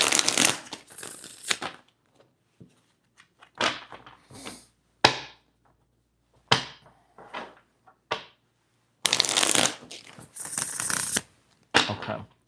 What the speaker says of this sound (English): Let me shuffle a couple times.